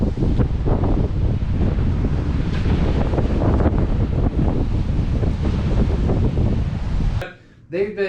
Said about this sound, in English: it is horribly windy out there,